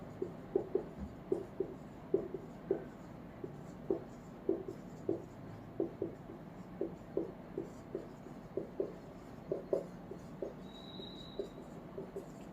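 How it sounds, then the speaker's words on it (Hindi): Someone writes on a board during a chemistry lesson, making a steady series of short, regular tapping and scratching strokes for several seconds, close and clear over low room noise, with no talking. "यहाँ लिख देते हैं।"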